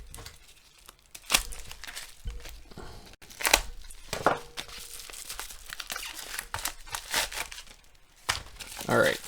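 A bubble mailer with added cardboard protection being torn open and handled, giving bursts of crinkling, tearing and rustling that come in uneven clusters, close and moderately loud, with some crunchy handling noise between them.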